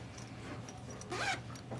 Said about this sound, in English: Zipper works.